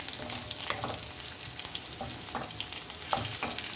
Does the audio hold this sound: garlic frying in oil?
yes